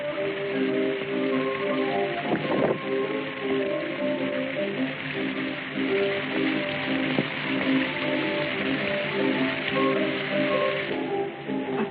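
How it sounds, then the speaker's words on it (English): Pouring rain outside, a dense, steady hiss of heavy rainfall with a couple of brief knocks, loud and continuous throughout with no voices. "Even though it's pouring rain outside"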